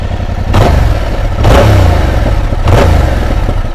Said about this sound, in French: On va mettre un petit coup de gaz pour voir.